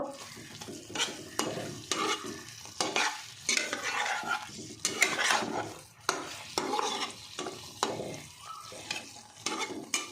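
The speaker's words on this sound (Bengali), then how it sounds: "এবার আমি এটাকে আবার নাড়া দিয়ে 2 মিনিটের মতো ঢাকা দিয়ে রাখবো।" Okra with poppy seed paste is stirred in a pan, giving repeated scraping and clattering strokes in an uneven rhythm over a soft, steady sizzle, close and alone.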